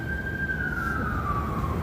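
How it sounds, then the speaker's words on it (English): An emergency vehicle siren passes outside as a single steady wailing tone that slowly falls in pitch, heard at a moderate distance over a low background rumble. "I mean, a siren."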